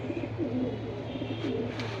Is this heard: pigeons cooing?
yes